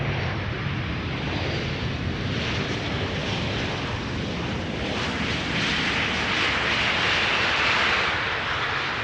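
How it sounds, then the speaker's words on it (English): A KLM Boeing 737-700 airliner arrives at Amsterdam Schiphol, its engines producing a steady, loud broadband roar that swells slightly as it passes, with some wind buffeting. "This is KLM Flight 1774, arrival from Berlin. This is a 737-700."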